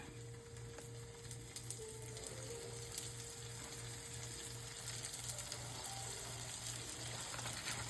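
A seasoned pork chop fries in a pan with a soft, continuous sizzle and crackle. The sound stays low and even throughout, with no talking.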